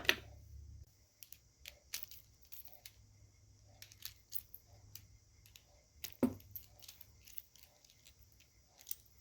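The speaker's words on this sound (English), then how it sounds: "we can tighten it up with the ratchet" Ratchet tightening a 7mm bolt on the spur gear of a TRX4 sport RC truck, a series of small quick clicks in uneven bursts, close and fairly quiet, with a few sharper metallic taps between them.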